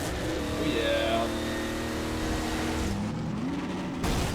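A car in the video game Half-Life 2: Episode Two drives and drifts, its engine humming with rising and falling tonal revs, then a brief rough skid-like scrape near the end.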